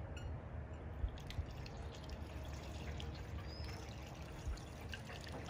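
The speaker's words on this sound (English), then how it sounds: "Now to flush the radiator out with water." Water pours and trickles steadily through the metal radiator of a 1931 Ford Model A pickup during a coolant flush, a continuous splashing flow with a few faint drips and knocks.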